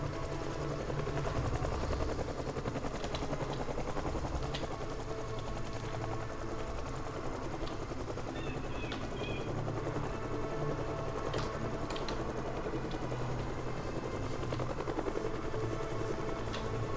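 A helicopter flies overhead in the zombie survival video game Project Zomboid, giving a continuous rapid rotor chop that stays at a fairly even level throughout.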